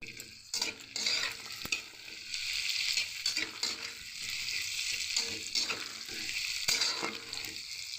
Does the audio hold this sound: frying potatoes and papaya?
yes